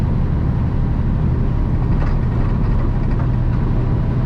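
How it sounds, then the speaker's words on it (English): A heavy semi truck's diesel engine labors uphill with a heavy load at high RPM, a loud, continuous low rumble and drone that holds steady throughout with no talk. "When you're pulling a big grade, pulling a heavy load uphill, you want to keep those RPMs a little higher so your engine's not working so hard"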